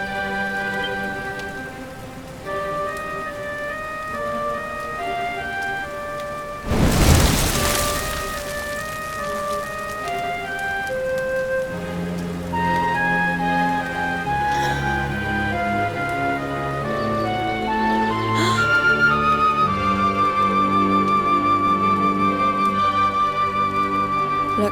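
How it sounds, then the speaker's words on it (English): Rain falling in the video game Dragon Quest XI, a steady wash of rain under sustained orchestral music, with a brief louder burst partway through. "Looks like the rain's dying down."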